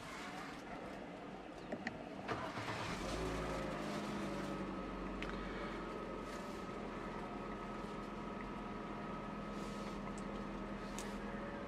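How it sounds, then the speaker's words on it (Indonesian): A Hyundai Stargazer X Prime engine is started with the push start-stop button. After a quiet moment it cranks and catches, then settles into a low, steady idle hum that continues to the end. "Untuk nyalain mesin, injak pedal rem dan tekan tombol engine start stop."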